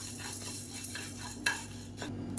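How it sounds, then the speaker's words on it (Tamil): Urad dal dry-roasts in a pan without oil, with quiet, faint scraping and rustling as the lentils are turned, marked by a few sharper stirring strokes over a low background hum. "ஒரு டம்ளர் அளவுக்கு உளுந்து கொஞ்சம் நல்லா சிவந்து வர அளவுக்கு வறுத்துக்கலாம் எண்ணெய் ஊற்றணும்னு அவசியம் இல்லை"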